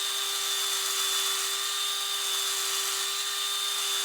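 An arrow insert being sanded on sandpaper with basic tools, heard as a steady, close, continuous hissing rasp with a constant tonal hum underneath and no talking.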